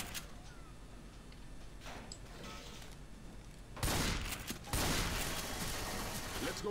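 Gunfire erupts in the co-op shooter Left 4 Dead 2, a sudden loud burst of rapid shots after a quieter stretch of background game noise, continuing in dense bursts.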